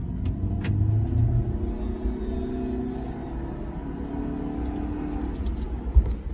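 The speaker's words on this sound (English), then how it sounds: "here is the test for acceleration" 2012 Nissan Rogue SV AWD accelerating, a steady low engine rumble and road noise heard from inside, with a few light clicks and a faint bird call outdoors.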